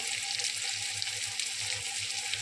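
Ground spices with onion and tomato paste sizzle in a frying pan, a dense continuous hiss with soft bubbling, close and fairly loud, no voices.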